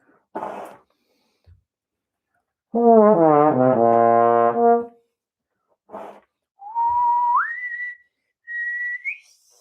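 A few breathy puffs and a hummed, wavering note, then a person whistles a short rising tune in two separate phrases, close and clear.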